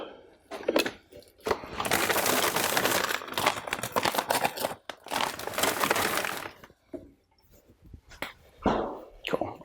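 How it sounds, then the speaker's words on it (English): Pieces of ice are grabbed and handled for a cocktail glass, giving bursts of crunching, clattering rattles, a long busy stretch and then a few scattered knocks with quiet gaps between them. "I grabbed a couple pieces of ice,"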